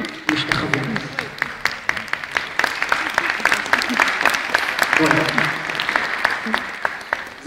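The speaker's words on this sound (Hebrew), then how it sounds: "נותנים מחיאות כפיים." Steady applause from a concert audience at the Jerusalem Symphony fills the hall as the conductor bows, many hands clapping densely and continuously at close range, with a few voices murmuring underneath.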